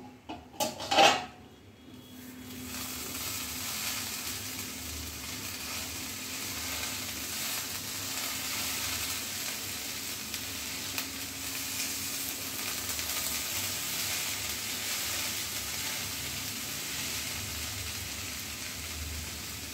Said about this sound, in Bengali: আমি এবার কড়াইয়ের ঢাকাটা তুলে তরকারিটা একটু নেড়ে দিচ্ছি